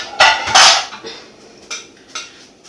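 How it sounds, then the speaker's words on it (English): Plates and cutlery are handled while setting up to serve pancakes, with several sharp clinks and clatters, two loud near bursts early, then lighter taps and scrapes. "We'll need a plate and cutlery to serve our food."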